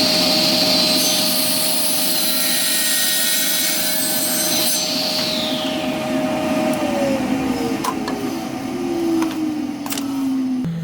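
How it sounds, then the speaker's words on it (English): A power saw runs continuously while cutting a slot into a wooden tenon held in a DIY tenon-cutting jig, a loud steady whine and rasp whose pitch slowly drops near the end as the blade loads up. "So we'll turn this saw on and we'll get cutting."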